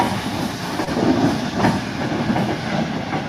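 A train rolls along the rails with a muffled clickety-clack, a moderate, steady rumble with faint rhythmic wheel beats.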